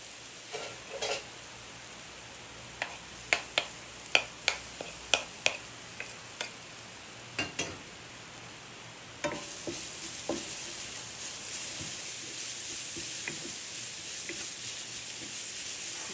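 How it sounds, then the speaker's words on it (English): Garlic fries in a pan with quiet scattered clicks of a utensil scraping and stirring, then a steady brighter sizzle rises and holds for the last several seconds, with no talking. "the garlic kind of releases its sweetness and it tends to caramelize. So just keep scraping it off the pan and fry it really well"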